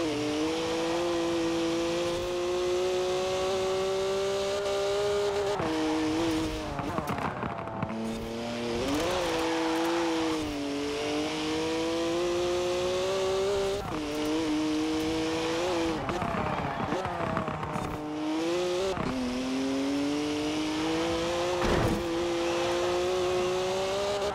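A car engine held at full throttle in Forza Horizon 4 racing, a loud sustained whining roar that rises and dips through gear shifts and braking for corners, continuous and close throughout.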